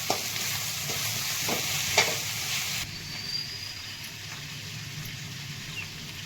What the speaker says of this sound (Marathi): अशा शेंगा त्याच्यात परतून घ्यायच्या आणि रशीमध्ये शिजून द्यायचे छानसं